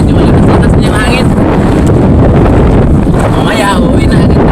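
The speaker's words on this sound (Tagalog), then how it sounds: "medyo malakas na yung hangin" Strong wind batters the microphone aboard a small fishing boat at sea, a loud, constant roaring rumble with little variation, while someone talks faintly beneath the noise.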